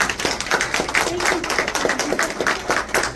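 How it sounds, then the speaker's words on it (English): Audience at the grand opening of a Meals On Wheels of Yolo County administrative office claps together, a dense, steady patter of many hands lasting throughout, fairly close and loud, with a few voices mixed in. "So thank you so much, and give yourselves all a round of applause."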